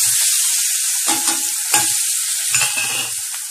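A large amount of cut garlic sautés in hot oil for kulambu, hissing loudly and steadily close by, with a few scraping stirs of a spatula against the pan.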